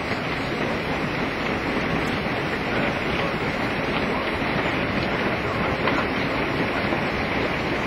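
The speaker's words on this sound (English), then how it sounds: "I don't know if you can hear this hitting the roof, but it is absolutely deafening." Hail from an intense hailstorm pounding a house roof, a dense, unbroken roar of impacts, loud and steady throughout with no voices.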